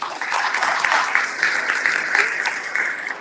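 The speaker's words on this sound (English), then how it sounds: "let's applause, for Olivia and Laura" An audience at a women's sustainability summit in Istanbul applauds, a steady dense burst of many hands clapping for a few seconds.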